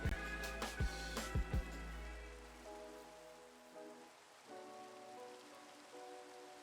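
Steady soft rain in Minecraft, falling as a faint even patter throughout, with a few sharp clicks and some tonal game music notes near the start.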